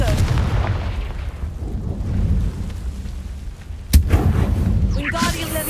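Explosions from the Confringo fire spell in Hogwarts Legacy: a sharp crack midway is followed by a blast and crackling debris, over rumbling game ambience.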